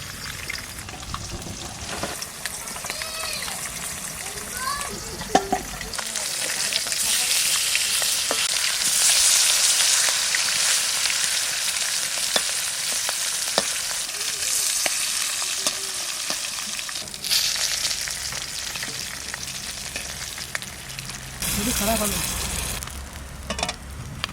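Rohu fish fries in hot oil with a loud, continuous sizzle that swells and fades, broken by occasional utensil clinks and brief background voices.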